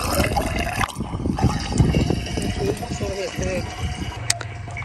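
Water filling a tank at Galtabäck harbour: a running, trickling flow and faint pump-like hum sit under nearby voices talking throughout.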